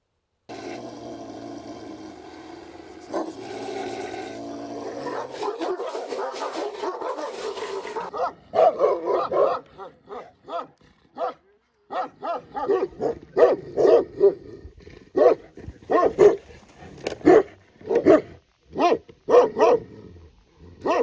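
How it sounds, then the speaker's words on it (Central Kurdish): A large Pshdar dog barks repeatedly and loudly, close by, in a run of sharp separate barks with short gaps between them, heard alone with no talk. "سەگی پشدەر گەورەترە"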